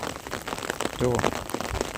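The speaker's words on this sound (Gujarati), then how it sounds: "હજુ વરસાદ ચાલુ છે" Steady morning rain patters across a surface near a river, a dense broadband hiss with scattered drops, while a voice briefly speaks in Gujarati partway through.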